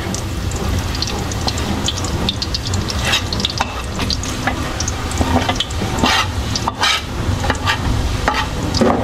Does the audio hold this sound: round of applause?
no